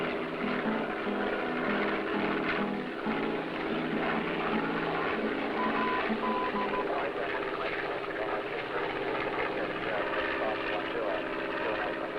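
Aircraft engine droning steadily overhead during an air search over the Australian outback, a continuous broad hum at moderate level with speech running over it throughout.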